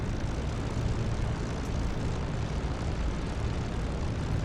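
Propeller aircraft engine idles during a ground run-up limited to 1200 RPM in a flight simulator, a dense, steady droning roar held at constant loudness throughout.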